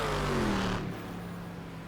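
A Ford GT race car engine in iRacing roars loudly and then eases off after a moment, with a steady mid-pitched drone continuing to the end.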